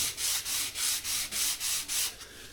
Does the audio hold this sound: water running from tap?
no